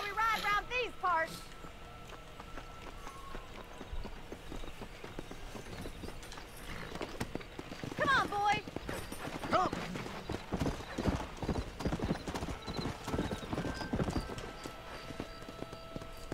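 Horses in Red Dead Redemption clip-clop along at a quick pace and let out occasional neighs and whinnies, hooves clattering steadily beneath ongoing conversation.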